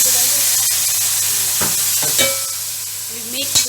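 Chicken pieces fry in a pan for Philippine-style paella, a loud close sizzle broken by scraping stirs and clinks of a utensil against the pan.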